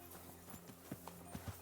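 Horse hooves clip-clop softly in Kingdom Come Deliverance 2, a few uneven thuds of a horse walking beneath a steady low ambient bed.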